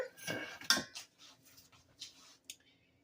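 A small spatula knocks and clinks against dishes at close range, a handful of sharp metallic taps and scrapes spaced apart, fading toward a quiet end.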